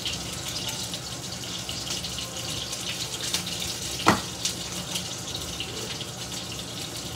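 Kitchen tap water running steadily into a sink during washing up, a constant gushing splash with a few clinks of dishes under the flow.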